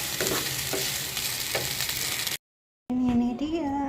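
Nasi goreng (fried rice) sizzling steadily in a pan while being stirred, with scraping strokes over the constant hiss, broken by a short silence before other sound resumes.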